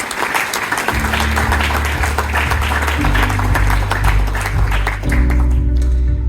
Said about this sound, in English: Ladies and gentlemen, a round of applause for our academic on the panel.